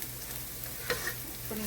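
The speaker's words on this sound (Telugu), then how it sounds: "ఇది మన ఆనియన్స్ అంతా ఫ్రై అయిపోయింది, ట్రాన్స్పరెంట్ అయ్యాయి కదా." Onions and garlic fry in a pan for a fish fillet gravy, giving a steady close sizzle with a couple of brief stirring clinks and no talking.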